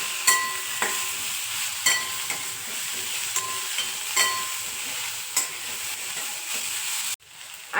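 Cardamom pods, both black and green, are sautéed in a pan, with a continuous close sizzle and periodic stirring clicks and scrapes against the metal, cutting off abruptly just before the end.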